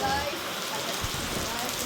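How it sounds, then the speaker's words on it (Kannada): Rain falls steadily outdoors, a dense, even patter that fills the whole short stretch at moderate loudness. "ಇವತ್ತೇ ಮಳೆ ಬಂದಿರೋದು."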